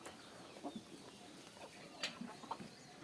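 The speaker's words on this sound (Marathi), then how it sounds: "किती स्पीडमध्ये तांदूळ खाण्यासाठी कोंबड्या बाहेर आलेल्या आहेत" Soft, scattered clucks from a few chickens coming out to eat rice in a village, fairly quiet and close, with faint background noise.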